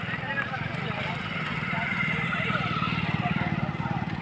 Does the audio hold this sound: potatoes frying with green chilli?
no